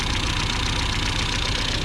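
An Opel GT engine fitted with a Weber 32/36 carburetor runs steadily at close range, a dense, constant mechanical drone with a low, even pulsing throughout and no voices.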